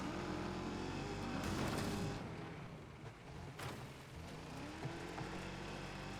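A damaged, overheating car engine in the Wreckfest 2 racing game roars and strains, with loud rough revving, a sharp bang-like burst near the middle, and continuous mechanical grinding and road noise.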